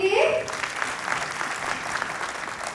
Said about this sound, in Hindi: एक बार ताली बनती है सबके लिए.